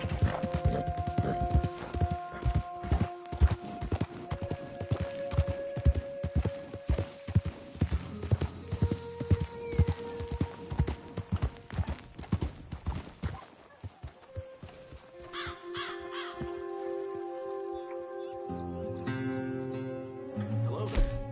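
Horse hooves clip-clop in Red Dead Redemption 2 as a rider walks a mount toward stables, steady close hoofbeats for over ten seconds, then they stop and a voice speaks over quieter game ambience.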